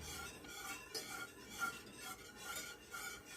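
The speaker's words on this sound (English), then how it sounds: "Stir it properly." Sauce thickened with cornstarch slurry being stirred in a pan: soft, continuous swishing strokes in an even rhythm, close and quiet, with no voices.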